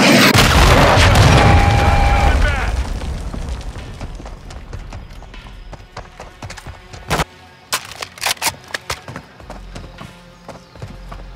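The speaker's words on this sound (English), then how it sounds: "Hostile cruise missile launched." A cruise missile explodes in Call of Duty: Modern Warfare 2 with a loud, booming blast that rumbles for a couple of seconds and fades. Scattered sharp clacks and knocks follow from the game.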